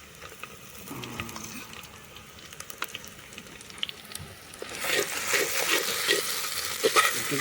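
Spices and onion sizzle in oil in a pan for a potato curry, a soft stir and crackle that swells into a louder, steady hiss toward the end.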